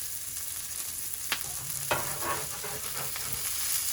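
Smash burgers sizzle steadily on a griddle, with a few sharp metallic scrapes and clacks as the patties are flipped, and no voices.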